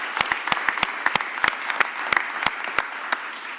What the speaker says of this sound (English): So let's give all those dedicated city employees and other folks a round of applause